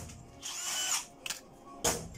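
A power drill fitted with an HSS-G metal drill bit, running at 520 rpm, whirs in short bursts, spinning up for about half a second, pausing, then starting again briefly, close by.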